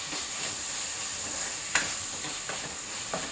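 Chopped spinach being stirred into a sizzling tomato and onion mixture for a green moong bhaji, a soft steady frying hiss with a few sharp scraping clinks of the spoon against the pan.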